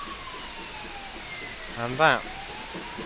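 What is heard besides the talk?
fire truck siren, from a train simulator video game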